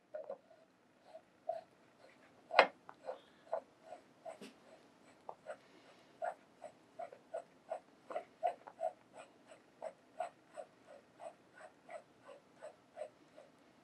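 A wrench turning an ultrasonic flow cell unit produces a steady series of faint, squeaky clicks close by, with a couple of sharper knocks early on.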